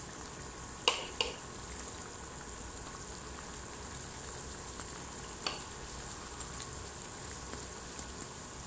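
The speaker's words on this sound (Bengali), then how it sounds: "এরকম করে নেড়ে চেড়ে লাল করে ভেজে নিতে হবে।" Potato chops (aloo chop) deep-frying in hot oil give a steady, close sizzle, broken by a few sharp clicks and scrapes of stirring near the start and middle.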